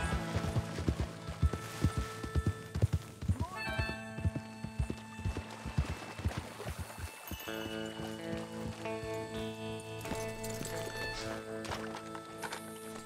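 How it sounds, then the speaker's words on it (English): A horse's hooves clip-clop in a steady, quick rhythm in the Red Dead Redemption 2 video game, fairly close, before a musical score swells and takes over in the second half. "I can ride a horse"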